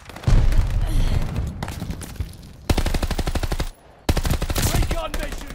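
Bursts of rapid automatic fire from a Thompson M1928 submachine gun in Call of Duty: Vanguard, loud and close, in three long strings split by short gaps, the rattle dense and sharp.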